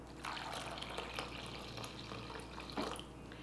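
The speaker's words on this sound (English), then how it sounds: "and then go ahead and add some water." Water is poured and stirred into zucchini fritter batter with maple syrup, making faint close splashy trickles and wet mixing sounds with no talk.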